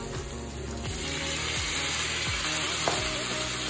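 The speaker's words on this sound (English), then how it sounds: "Now I'm going to add in my fish. This is boneless, skinless tilapia fillets that I diced." Diced boneless, skinless tilapia fillets frying in a pan for a stir-fry, a steady close sizzle with occasional scraping stir sounds and small clinks throughout.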